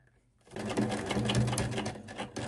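A sewing machine stitches a preassembly seam at the shoulder of a garment, starting after a short quiet moment with a fast, steady mechanical whirring chatter, close and loud, pausing briefly before starting again.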